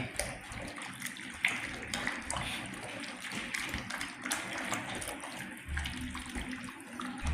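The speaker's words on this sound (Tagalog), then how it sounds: "Kasi pag nakikita mo naman dyan, ito yung tubig." Running water pours steadily, like a tap filling a tub or basin, with a continuous splashing hiss, uneven surges and a few sharper knocks close by, no talking.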